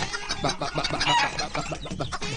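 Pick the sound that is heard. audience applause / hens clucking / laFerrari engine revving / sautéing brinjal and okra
hens clucking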